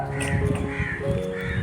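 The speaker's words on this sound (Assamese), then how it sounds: "কুলি চৰাই চিঞৰি আছে কুলি চৰাইৰ মাতটো শুনি সি নিজেও মাতিছে" An Asian koel calls from close by, sounding as a run of repeated, tonal harmonic calls over steady background hum.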